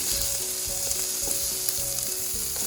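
Beechwood smoked speck frying in a pan, a loud continuous sizzle with a bright, hissing crackle, close up and steady throughout with no voices.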